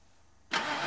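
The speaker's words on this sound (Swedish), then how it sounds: "Starta motorn." A car engine cranks into life after half a second of near silence, the start-up catching abruptly and running on as a steady mid-pitched idle, close by and fairly quiet overall.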